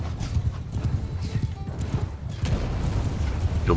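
Cavalry horses galloping in the Mount & Blade II: Bannerlord video game, a dense, continuous drumming of many hooves with an occasional whinny, loud and steady throughout with a faint voice briefly underneath.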